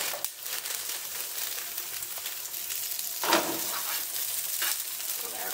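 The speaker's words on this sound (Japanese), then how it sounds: "まずしめじ、これカットしめじ炒めます。" Cut shimeji mushrooms stir-fry in a pan for mushroom and nozawana garlic soy pasta, a steady nearby sizzle broken by a couple of louder stirring and tossing bursts, with no speech.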